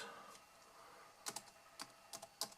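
Typing on a computer keyboard: a handful of quick, crisp key clicks in an uneven rhythm, close but quiet, with no voice.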